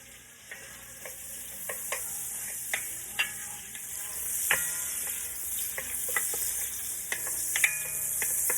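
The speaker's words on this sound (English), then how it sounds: "I'm going to go ahead and add my onions to this" Chopped onions seasoned with salt and pepper sizzle steadily in a hot pan, with close, regular scrapes and taps of a spoon stirring them.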